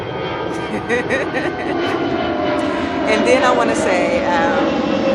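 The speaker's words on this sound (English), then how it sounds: "allow the plane to cross" An airplane passes overhead as a steady, broad engine roar that swells slightly toward the end, running beneath a woman's ongoing speech.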